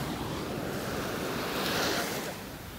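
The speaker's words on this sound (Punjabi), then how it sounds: "ਓਹ ਜਿਹੜੀਆਂ ਲਹਿਰਾਂ ਆ ਰਹੀਆਂ ਨਾ" Sea waves roll and wash onto a Dubai beach on a morning, a steady broad surf roar with some wind noise on the microphone, loud and continuous with no voices.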